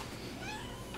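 A sweet young spayed female cat gives a short, high-pitched meow, faint and set against a steady background hiss.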